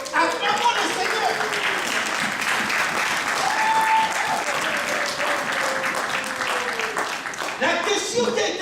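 Congregation in a church clapping and cheering in sustained applause throughout, loud and dense, with voices mixed into the crowd noise.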